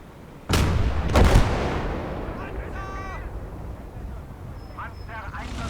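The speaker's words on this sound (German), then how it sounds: "Feindliches Geschütz." Enemy artillery fire thunders in the World War II game Gates of Hell: Liberation, a heavy boom followed by a second blast and a long rumbling decay, with brief radio-style voices and clanking sounds afterward.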